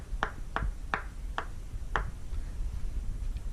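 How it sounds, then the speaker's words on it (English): Two cold tomatoes straight from the fridge are tapped together five times in an uneven rhythm, making short, sharp, close knocks over a quiet background. "That is not the normal sound of 2 tomatoes being tapped together."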